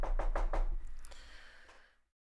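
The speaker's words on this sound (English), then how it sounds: "Matter of fact, I'm going to knock on wood." Several sharp knocks on a wooden surface, about four quick raps in a steady rhythm, close and fairly loud, fading into a brief room tail with no talking.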